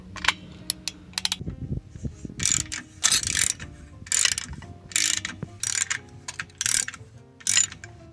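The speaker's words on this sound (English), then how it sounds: "Next step is we're going to unscrew our bolts." A ratchet clicks in repeated loud bursts, close by, as it unscrews the bolts on a camper trailer's tongue jack, with brief pauses between each run of clicks.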